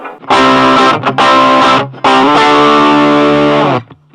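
An electric guitar plays through a beginner practice amp with the volume turned up, giving loud, distorted sustained chords in three strummed bursts over about four seconds, raw and gritty.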